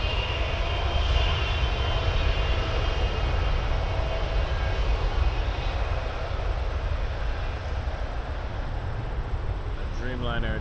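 A Dreamliner jet airliner at Toronto Pearson Airport gives off a steady, loud engine roar that holds throughout, with a faint high whine over it.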